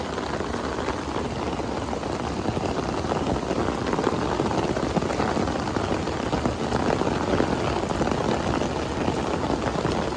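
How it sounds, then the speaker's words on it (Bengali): Heavy rain pours down steadily, a dense, continuous, loud hiss that never breaks over the whole stretch. "এই যে প্রচণ্ড বৃষ্টি হচ্ছে"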